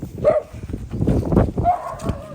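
A dog gives a few close, short barks and yips amid scuffling noise, loud and irregular.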